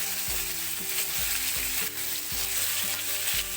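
Turmeric, salt and green chillies being stirred in a frying pan, a dense, hissing sizzle with soft, regular scraping strokes from the spoon, close and with no voice.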